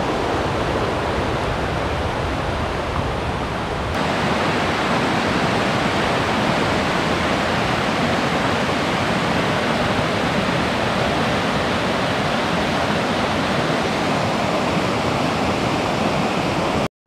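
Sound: river flowing in the Smoky Mountains

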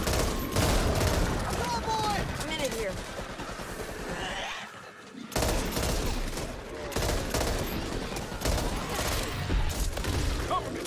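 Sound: gunfire in the video game Back 4 Blood

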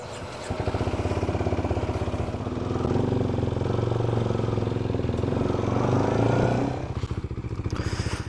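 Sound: Kawasaki Ninja 125 motorcycle riding off

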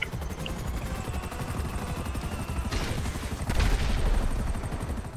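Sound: gunfire from the video game Grand Theft Auto V Online

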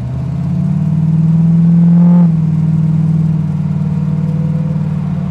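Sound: 1932 Ford Model Y hot rod engine accelerating

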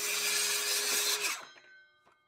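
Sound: saw cutting a 45 degree bevel in lumber

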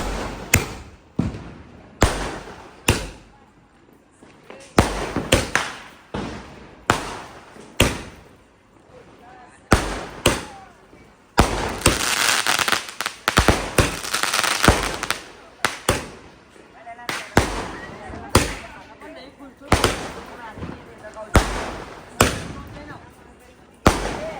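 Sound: firecrackers bursting

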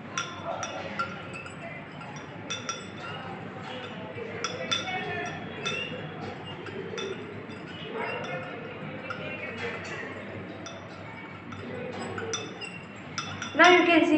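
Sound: stirring a solution in a glass

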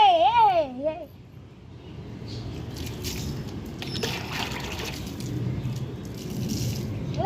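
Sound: water poured over a Rajapalayam dog's head

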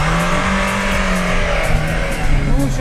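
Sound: Lada Niva car accelerating hard off-road

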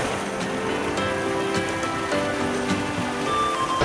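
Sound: waterfall rushing nearby

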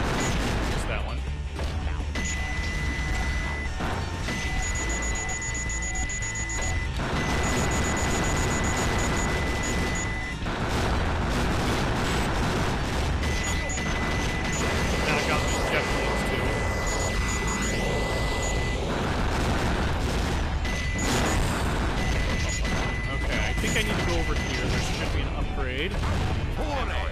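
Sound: large cannon firing and explosions in Sonic Adventure 2 video game

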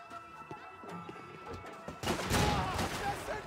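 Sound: shotgun fire in the video game Max Payne 3

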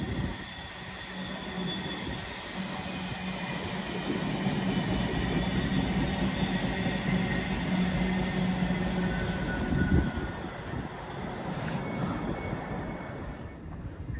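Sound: London Northwestern Railway class 730 train

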